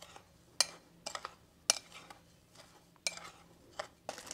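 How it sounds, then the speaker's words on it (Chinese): Seasonings for a cured sausage and pork marinade being mixed in a bowl, with a series of soft scrapes and light clinks arriving in irregular bursts, close and fairly quiet. "现在开始准备这个腌料，把这些腌料都混合在一起"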